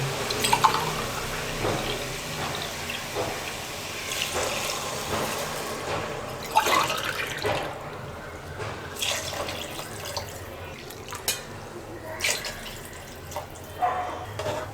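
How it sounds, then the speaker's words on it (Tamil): Water runs and splashes steadily into a pot for vegetable rice for several seconds, with occasional clinks and drips, close by and fairly loud. "இப்போது 2 டம்ளருக்கு நான் 3 டம்ளர் தண்ணி ஆட் பண்ண போகிறேன்."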